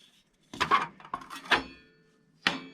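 An old spatula and kitchenware being handled in an abandoned miner's cabin: a few close, separate metallic clinks and knocks with brief ringing, spaced out between quiet gaps.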